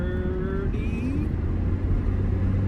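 A 1993 Eagle Talon AWD turbo, fresh from a transmission rebuild, revs steadily while driving, a loud continuous engine drone climbing in pitch from start to finish.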